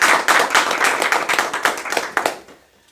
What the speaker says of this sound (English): give a big clap for ourselves